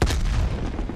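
A grenade goes off in the Black Ops Cold War campaign: one loud, close boom at the start that rolls into a heavy rumbling roar, slowly thinning over a second with no voices.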